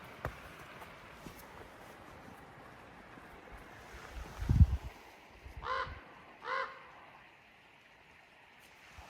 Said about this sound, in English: the crows have been keeping tabs on us the whole hike